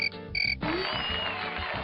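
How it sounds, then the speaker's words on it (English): A field cricket's chirp plays in an animal-sound quiz within a Magic School Bus video game: two short, bright, pulsing trills, then a softer sustained tone, clear and alone. "It's the chirp of a field cricket."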